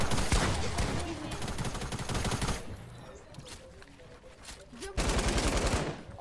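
Loud, dense bursts of rapid video-game gunfire rattle close up, ease off into sparser shots for a couple of seconds, then surge back into heavy automatic fire.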